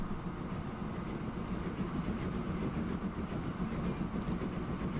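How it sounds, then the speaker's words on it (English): An oil train in Transport Fever 2 rolls steadily past, with a continuous low rumble and faint clickety-clack of wagons on the rails at moderate distance, with no voices. "There we go, there's oil train running past."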